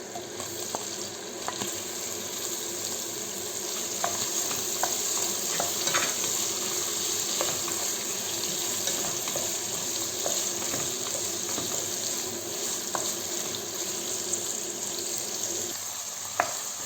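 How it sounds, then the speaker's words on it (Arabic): Meat frying in melted fat in a pot for an okra stew, giving a steady, fairly loud sizzle throughout with occasional stirring clicks and scrapes. "هون بعد ما دابت الدهني راح احط اللحمة"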